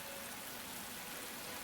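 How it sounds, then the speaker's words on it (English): Rain falls in the Atelier Ryza 2 game as a dense, even hiss, steady and unbroken, with no voices over it. "raining."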